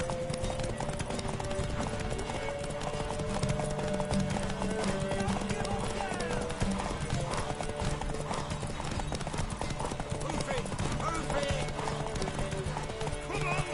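Hooves clip-clop steadily in a video game under dense, continuous game music and effects, with a horse neighing briefly and character voices speaking throughout.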